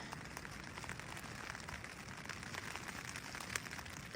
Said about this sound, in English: I don't know if you guys can hear the rain outside.